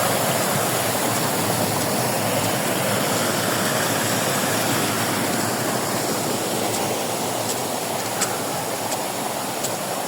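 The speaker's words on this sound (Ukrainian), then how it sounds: "Дощ закончився, а воно ще біжить." Steady, broad rushing of rainwater runoff after rain, like heavy runoff pouring through a drain, continuous and unchanging throughout.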